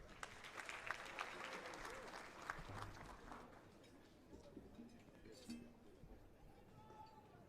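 Applause for a choir at a Zambian independence anniversary celebration, a broad crowd clapping loudly at first and then thinning, with voices and singing mixed in underneath.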